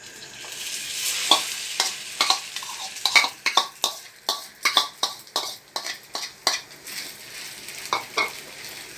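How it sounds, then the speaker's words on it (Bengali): Homemade chicken pizza mixture spooned into hot oil sizzles softly under a rapid series of sharp metallic scrapes and taps as it is pressed into shape, nearby with no talking. "তেলটা গরম হয়ে গেছে, আমি এবারে এটা দিয়ে দেব এই অয়েলের মধ্যে।"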